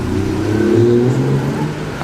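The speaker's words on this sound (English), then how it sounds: "the fantastic TR5 in white, sounding fantastic 6-cylinder." White Triumph TR5 with a six-cylinder engine driving past on a classic car road run parade, a loud, steady engine note holding through the pass and easing slightly at the end.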